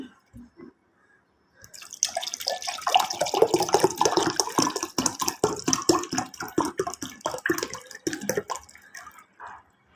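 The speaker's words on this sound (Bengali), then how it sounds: "এখন দিয়ে দেবো এই যে ফ্রিজের" Cold water from the fridge is poured into a container for lemon sherbet, a few drips first, then a sustained splashing, gurgling stream that fades into trickles near the end.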